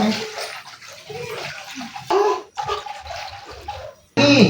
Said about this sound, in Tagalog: O, lalagyan po natin ng water.